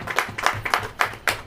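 Church congregation claps in a steady rhythm during a Hindi sermon, five evenly spaced, fairly close claps over a faint low hum.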